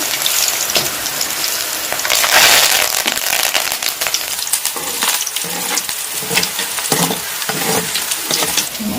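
Green chilies and curry leaves crackle and sizzle in hot oil, a dense, steady frying hiss with sharp pops scattered throughout, close and loud with no voices.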